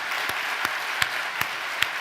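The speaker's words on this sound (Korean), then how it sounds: "우리 다 같이 영광의 박수를 올리겠습니다" At an Easter Sunday church service, a congregation applauds in a dense, steady wash of clapping. A few sharper individual claps stand out near the front.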